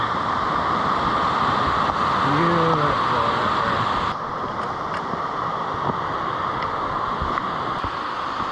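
Cascade River waterfalls on the Superior Hiking Trail give a loud, constant broadband roar of rushing water, steady throughout with a slight drop in level midway, and a brief voice in the background.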